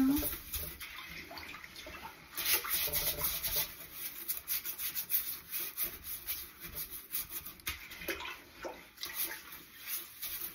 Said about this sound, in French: Je vais utiliser la brosse. Donc, je nettoie